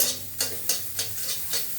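Parboiled eggplant (brinjal) frying in a pan, with a soft sizzle under five evenly spaced scraping stirs of a spatula, close and moderately loud.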